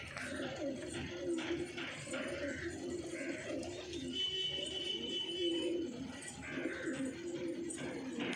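Punjabi Malwai pigeons cooing in a group offered for sale, soft repeated throaty coos layered over each other at close range, with a quiet background murmur of people.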